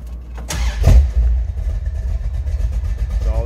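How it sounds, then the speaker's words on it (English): A 1969 Dodge Dart with a 383 V8 cranks briefly, fires with a loud rumbling catch, then settles into a steady, deep, slightly lumpy idle close by. "So I'm just gonna reach in and start this."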